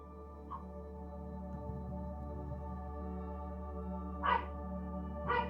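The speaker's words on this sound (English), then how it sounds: "Now my roommate's dog is barking" A dog barks indoors in short, separate bursts, one faint early yap followed by two louder barks near the end, over a steady low hum.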